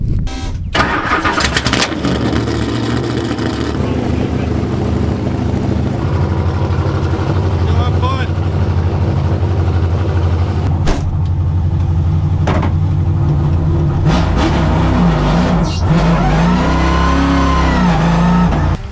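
A NASCAR V8 engine in a Nissan Silvia cranks and fires up, then rumbles and revs repeatedly, loud and close, with pitch swells rising and falling through the run.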